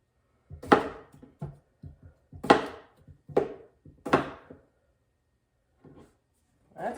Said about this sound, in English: chop up some potatoes